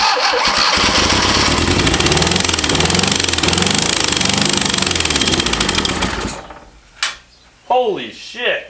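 An abandoned Fiat engine, unstarted for 30 years, cranks and catches into loud, rough, pulsing running for about six seconds before cutting out, then excited voices follow.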